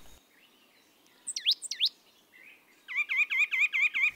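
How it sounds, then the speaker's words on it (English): Small birds chirp nearby in a redwood park, chestnut-backed chickadees and white-breasted nuthatches: a pair of quick rising calls, then a rapid rhythmic series of repeated notes, with quiet background between. "Can you hear the chorus of northern flickers, woodpecker drumming, chestnut-backed chickadees, white-breasted nuthatches"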